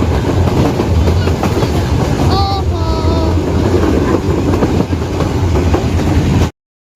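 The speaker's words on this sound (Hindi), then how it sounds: "साथ ट्रेन की विसल और रेलगाड़ी की पटरी" A train runs along railway tracks with a loud, continuous rumble and rhythmic clatter, and brief whistle-like tones sound partway through.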